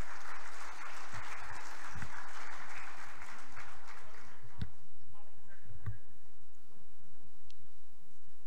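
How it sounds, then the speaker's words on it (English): Audience applause at an inauguration ceremony, dense sustained clapping from a large crowd that thins into scattered individual claps in the second half. "Let's give a very big round of applause,"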